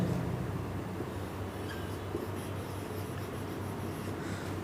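Marker or chalk scratching steadily across a board in a chemistry class, a continuous close rubbing texture with no talk over it.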